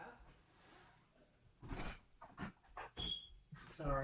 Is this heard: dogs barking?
yes